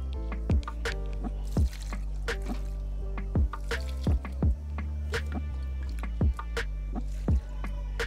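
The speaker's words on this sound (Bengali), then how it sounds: "তরল খোলসার একদম এই টবের কিনারা বরাবর দেব" Liquid oil-cake fertilizer is poured along the rim of a potted marigold, making soft, close, irregular drips and splashes over a low steady hum, with no talking.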